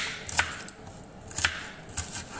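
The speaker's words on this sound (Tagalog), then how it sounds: "Mag-ahiwa kayo ng sibuyas na iiyak kayo." A knife cuts through an onion on a board in a few sharp, spaced chops, close and fairly quiet, with no talking.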